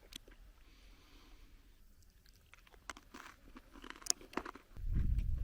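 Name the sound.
crunching a cracker with apricot jam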